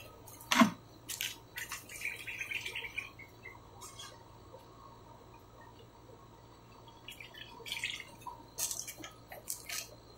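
Water dripping and trickling through the soil of a root-bound banaba tree in a container, heard as scattered close, faint drips and soft splats in small clusters over a quiet background.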